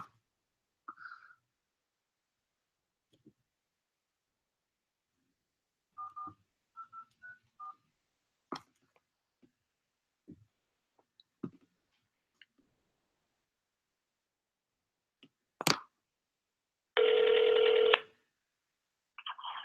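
A telephone number is dialed with a run of short separate touch-tone beeps, then a loud ring tone sounds once near the end, amid faint clicks and quiet gaps.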